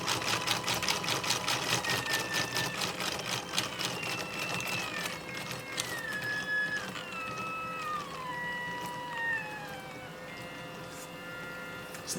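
A stepper motor drives a 3D-printed helical cage gear cup with a whining, buzzing tone that glides down in pitch as it slows, with rapid ticking pulses throughout, close and steady.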